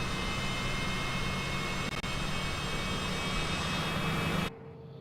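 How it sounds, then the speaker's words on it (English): Steady, loud whine and roar of a jet engine spooling up in Microsoft Flight Simulator, a continuous airplane engine drone with tonal hum that cuts off abruptly near the end. "All right, so we got left engine spinning up."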